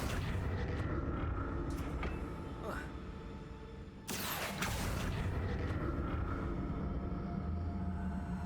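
A Confringo blasting spell bursts in the Hogwarts Legacy video game, a sharp broadband explosion partway through, set against a dense, continuous bed of game music and effects.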